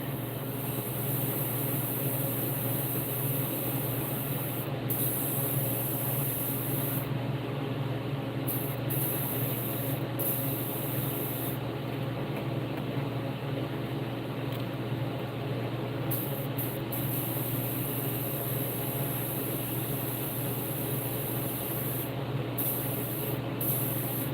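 Airbrush spraying paint onto a heated golden shiner fishing lure, a loud, steady broadband hiss running continuously with a constant low hum beneath and brief breaks in the highest hiss.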